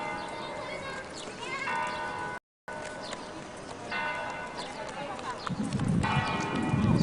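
Church bells ring out beside a church under restoration in the Spanish capital, a steady metallic peal recurring through the clip amid outdoor ambience and voices, briefly cut by a gap and followed by louder low rumble near the end.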